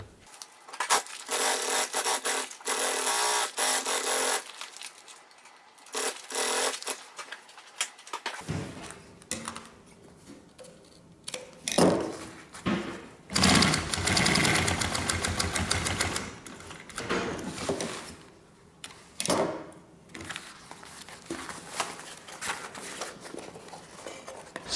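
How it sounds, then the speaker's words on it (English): A sewing machine stitches binding onto a homemade backpack, running in long continuous bursts with short pauses and some rubbing and handling of fabric in between, close and fairly loud with no talking. "let me bind this and then we'll stitch it down on here"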